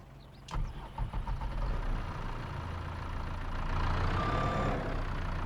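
A tractor engine idles and runs steadily in a farming video game, a low continuous rumble that rises slightly after a brief clunk near the start.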